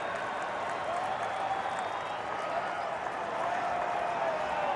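Large crowd murmuring and stirring in a baseball stadium during a Yankees vs White Sox night game, a broad steady wash of distant voices and faint clapping under a commentator's voice.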